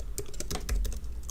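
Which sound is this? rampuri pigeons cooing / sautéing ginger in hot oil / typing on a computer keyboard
typing on a computer keyboard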